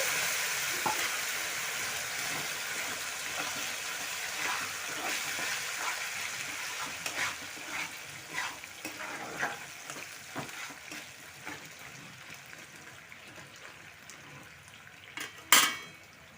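A spoon stirs raw papaya pickle in a metal pan after a splash of water is added, giving a steady soft sizzle with repeated scraping and clinking, ending in one sharp louder knock of utensil on pan.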